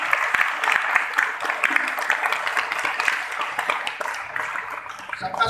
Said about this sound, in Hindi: मैं चाहता हूं कि सारे अतिथियों के सम्मान में एक जोरदार ताली